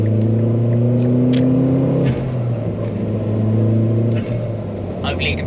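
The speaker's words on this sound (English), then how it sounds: "Hopefully you can pick that blow-off valve up on camera as well, because it's got a nice blow-off valve." A turbocharged car engine revs hard from inside the cabin, a loud droning rumble that rises then drops twice as the throttle lifts, each time releasing a short hissing whoosh from the blow-off valve.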